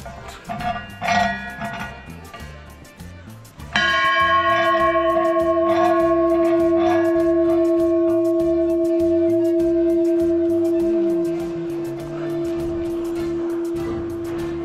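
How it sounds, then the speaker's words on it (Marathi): A large temple bell is struck once with a loud clang, then rings on with a long, steady humming tone that slowly fades, with faint voices before the strike. "किती मोठा घंटा आहे"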